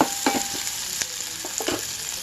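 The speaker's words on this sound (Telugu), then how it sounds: "ఇక్కడ వేగుతున్నాయి మొత్తం నూనెలో, నెయ్యిలో వేగుతున్నాయి" Cabbage and wheat rava pulao ingredients frying in oil and ghee, a steady close sizzle with a few stirring clicks and scrapes, no voices.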